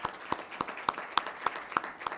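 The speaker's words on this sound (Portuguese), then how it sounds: "peço, como simbolismo para o início desses trabalhos, uma salva de palmas de todos os senhores" Applause from a seminar audience on sports compliance, a sparse, rhythmic round of clapping with distinct regular beats, moderately close and fairly quiet, with no talking over it.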